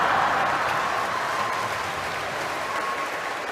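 A church congregation breaks into steady, dense applause during a sermon, a loud continuous clapping that fills the space for several seconds.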